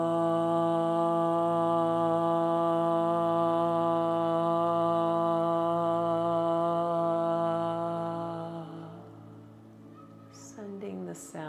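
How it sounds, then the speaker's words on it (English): Deep guttural "ah" chanted by a single voice for an Om mantra, one long steady throaty tone sustained for several seconds before fading, followed by a brief breath. "The first sound that we work with is a deep guttural sound"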